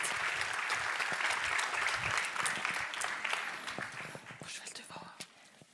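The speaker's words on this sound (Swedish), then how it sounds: "ger vi deltagarna en riktigt stor och varm applåd och välkomnar dem in på" Audience applause welcoming participants onto a stage at a talk event, steady dense clapping from a crowd that fades out toward the end, with faint murmuring.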